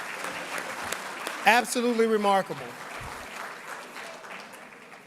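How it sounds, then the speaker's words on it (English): Audience applause fills an honors ceremony hall, a sustained crowd clapping with a louder burst in the middle, while a speaker talks over it. "give yourselves a round of applause"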